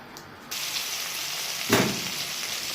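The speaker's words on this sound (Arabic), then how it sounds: "حطيت هنا معلقه سمنه على حبه زيت ذره. هما سخنوا هنزل بالبصل" Onions dropped into a spoonful of hot ghee with corn oil, giving a steady close sizzle that swells into a louder burst partway through, with no voices.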